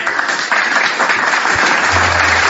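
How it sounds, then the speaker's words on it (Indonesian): Audience applause at a mosque-education talk in Indonesia, a steady dense wash of clapping throughout with a low hum entering near the end. "Tepuk tangan dulu."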